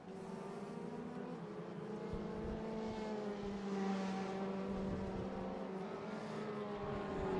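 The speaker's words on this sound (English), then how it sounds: "Brilliant sounding car on the downshift is that Peugeot 308." A Peugeot 308 race car at Portimao in a racing video game drones through its gears with layered engine tones, the pitch stepping down on the downshifts, moderately loud and steady.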